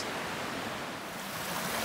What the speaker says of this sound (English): This is the Lost River. Comes out of that little rock hole.